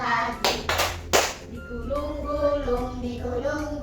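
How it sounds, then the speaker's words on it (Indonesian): Children clapping hands together in a classroom dance lesson, a few sharp claps early on followed by softer sounds under a teacher's singing voice. "tepuk tangan lagi"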